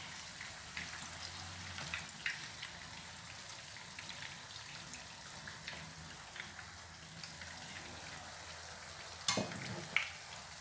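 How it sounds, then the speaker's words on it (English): Pepper frying in a pan for a vegan dish, giving a steady soft sizzle with scattered crackles and pops and a couple of louder clatters near the end, with no voices. "I'm going to allow it to fry for 5 minutes."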